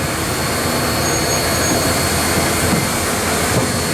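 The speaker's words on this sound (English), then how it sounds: "that exhausting steam creates a vacuum in that smoke box that creates the chucking sound you hear when you see a steam locomotive." Southern 4501 steam locomotive exhaust roars as a steady, loud broadband rush with faint periodic bursts of chuffing, no voices.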